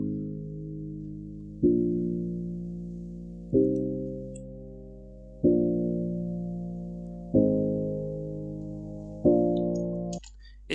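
Filtered piano chords struck one after another, six in a slow, steady sequence about two seconds apart, each ringing and decaying with a muffled, dark tone as the filter gradually opens slightly brighter.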